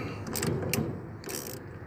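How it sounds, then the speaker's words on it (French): A ratchet tightens the bearing nut on the wheel hub of an Erka 500 kg trailer, giving brief bursts of close mechanical clicking and metallic ratcheting with short pauses between strokes. "il n'y a plus qu'à serrer l'écrou à fond."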